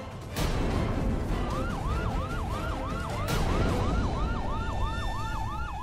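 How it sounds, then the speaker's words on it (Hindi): A police siren wails in a repeating rising and falling cycle, loud and close, over a dense background of traffic and street noise. "ये सायरन की आवाज सुन रहे हो तुम दोनों"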